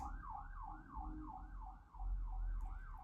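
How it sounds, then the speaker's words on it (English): A wailing emergency vehicle siren sweeps up and down in a steady repeating pattern, fairly close, over a low rumble of traffic. "And look, there go the sirens."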